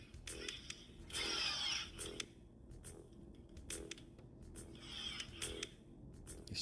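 Hole saw on a drill boring a door knob hole through a door, faint grinding bursts with repeated short stops and restarts.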